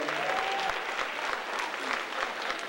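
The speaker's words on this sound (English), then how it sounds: "Clap for the security, clap for the security." An audience at a hip hop belly dance performance applauds the security staff, a steady bed of crowd clapping heard from a little distance with faint voices underneath.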